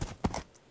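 Horse hooves clop in the Minecraft video game, a few soft, quick hits close by with brief gaps between them.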